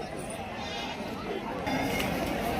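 Goats bleat amid a busy livestock market in Shirur, Maharashtra, with bleats rising over steady crowd chatter and voices of traders nearby.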